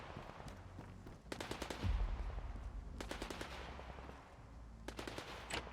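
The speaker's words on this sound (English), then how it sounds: "Who's shooting again?" Bursts of automatic gunfire in STALKER 2, several rapid rattling volleys crackling at mid distance with pauses between them, over a low rumbling ambient background.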